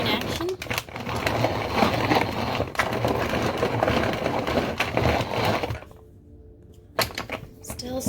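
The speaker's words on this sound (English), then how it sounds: "Some stirring action." A spoon scrapes and crunches through a thick, nut-filled no-bake cookie mixture, a steady dense stirring that goes briefly quiet near the end before resuming.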